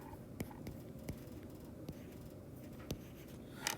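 A pen or pencil writing by hand while working a math problem makes faint scratches and several sharp taps spread unevenly over a few seconds, close and quiet, with no talk.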